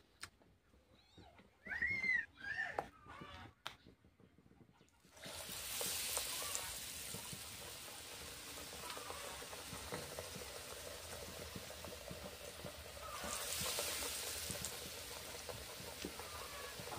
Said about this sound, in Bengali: এবার আস্তে আস্তে বেগুনিটা দিয়ে দিচ্ছি।